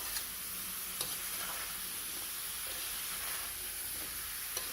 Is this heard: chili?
yes